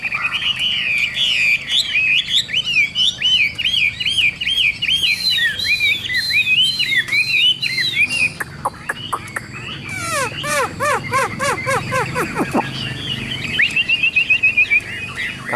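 A caged Tam Hoàng Hwamei songbird sings loudly and rapidly at close range, pouring out looping, whistled phrases in quick bursts, then shifting to fast repeated descending notes and trills without pause.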